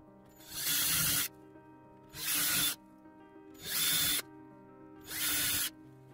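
Power drill with a 4.5mm bit boring through a headphone grill ring set on scrap wood, four evenly spaced bursts of loud whirring, each about a second long with quiet gaps between.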